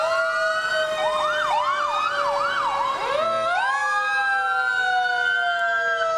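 A fire truck from the Hudson Booster Days parade sounds its siren, a loud wailing sweep rising and falling over steady blaring horn tones that hold throughout, close and continuous.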